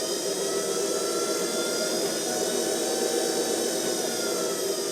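A woodturning lathe motor whines steadily and loudly throughout, a smooth high-pitched hum that holds nearly level with no other sounds.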